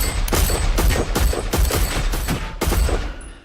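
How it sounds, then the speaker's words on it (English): A rapid burst of Glock pistol gunshots, about eight sharp loud cracks in quick irregular succession, the last trailing off into a brief echo. "One of Keefe D's guys in the back seat grabbed the Glock and started busting shots."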